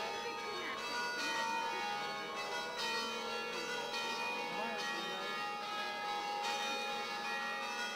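Church bells at Etchmiadzin, seat of the Armenian church near Yerevan, ring with sustained, overlapping metallic tones that swell and fade in waves at a moderate distance.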